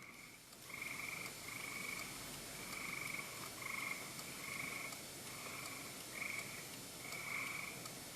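Frogs call by a roadside at night in a repeated pulsing chorus of croaks, fairly distant and steady over a quiet background hiss, with no voices.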